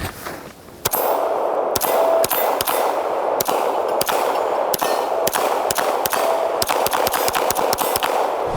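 An Oracle Arms 2311 double-stack pistol fired in a steady string of about a dozen loud, sharp shots, each with a crisp report and a ringing tail, spaced roughly half a second apart after a short pause.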